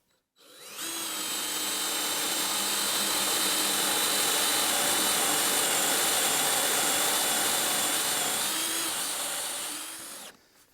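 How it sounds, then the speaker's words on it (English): A power drill bores holes into a wooden cradle, a loud, steady whirring whine that runs unbroken for about ten seconds with nothing else heard. "So I'm just going to transfer these marks to the actual cradle now, and get these drilled."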